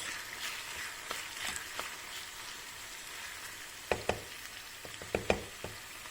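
Ground beef frying in a pan with green peppers and chili flakes, a steady soft sizzle with scattered sharper crackles and spatters toward the end; no voices.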